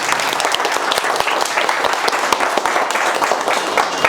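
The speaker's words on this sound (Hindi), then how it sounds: "एक बार खड़े होकर जोरदार ताली बजाइए MD सर के लिए" A standing audience at a mobile repair training institute gives loud, vigorous applause. Many hands clap in a dense, sustained roar with sharp individual claps standing out close by.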